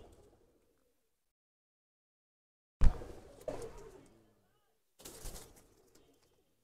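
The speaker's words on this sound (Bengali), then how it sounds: "ও জাবরা কবুতর।" A Jabra pigeon gives a few short, close coos and rustles in separated bursts, with silence between them.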